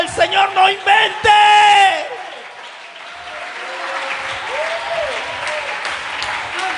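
A church congregation breaks into applause and cheering during a sermon, a loud wash of clapping with whoops following shouted words from the preacher, then settling into a lower murmur of voices and scattered calls.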